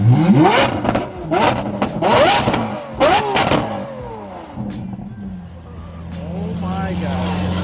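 A supercar on a Mexican highway revs hard several times in quick succession, loud rising engine bursts that settle into a steady idle rumble, with excited voices talking over it.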